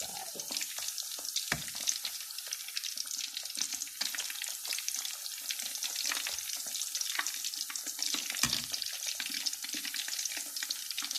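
Pork fries in hot oil, crackling and spitting steadily up close, with dense popping splatters and occasional louder spits running throughout without voices.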